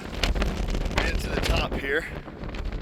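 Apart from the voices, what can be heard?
wind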